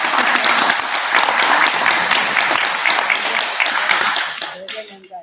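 An audience applauds a Buddhist monk at a lecture, brisk hand claps massed into a lively sustained patter that thins and dies away in the last second, with a voice briefly heard near the end.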